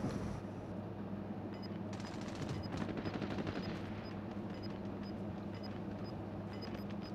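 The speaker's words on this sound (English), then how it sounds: "Are we getting shot at, Oscar?" Gunfire in Call of Duty: Modern Warfare, quiet and somewhat distant, with rapid bursts of automatic shots rattling over a low steady rumble, briefly busier in the middle, no speech over it.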